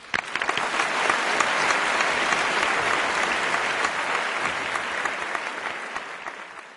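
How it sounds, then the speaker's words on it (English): A full audience applauds a climate change speaker with thick, continuous clapping that swells early, holds steady and then slowly tapers toward the end, with no speech over it. "Let's give him another round of applause,"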